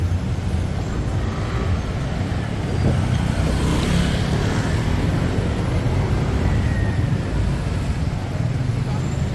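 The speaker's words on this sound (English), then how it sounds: "Soi 11 is always packed with traffic" Steady, dense street traffic along Sukhumvit Soi 11 in Bangkok, a continuous low rumble of engines and road noise that swells slightly midway, with no clear single vehicle standing out.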